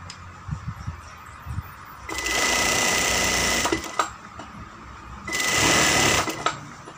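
A sewing machine stitches elastic-waist trousers in two loud sustained runs of about one and a half seconds each, separated by quieter handling and fabric noises.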